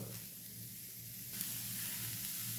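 Bitter gourd pieces shallow fry in oil in a pan, giving a soft, steady hiss and sizzle at low level throughout, alone without speech.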